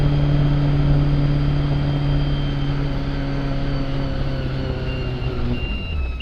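A helicopter held in a simulated partial power failure during a training landing, a loud steady turbine whine with constant rotor hum and tonal drone throughout, close by, no talk.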